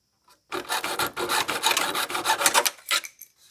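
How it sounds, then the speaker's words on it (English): A rusty hacksaw blade cuts a small metal bar on a 1984 Dodge D150 truck, making close, rapid rasping strokes for about three seconds. "Rusty hacksaw blade."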